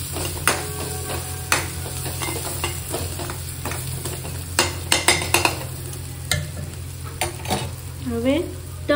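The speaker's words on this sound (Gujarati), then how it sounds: "લાલ મરચું હવે એને મિક્સ કરી લઈ." Red chili being stirred into dal fry in a pan: repeated scrapes and clinks of a spoon against the pan over a steady low sizzle, close by, no one speaking.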